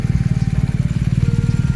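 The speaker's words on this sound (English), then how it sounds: "There's Dave and Desi driving through the tunnel log" A vehicle engine idles and putters steadily as it drives through the Tunnel Log in Sequoia National Park, a rhythmic low chugging at moderate distance with no voices over it.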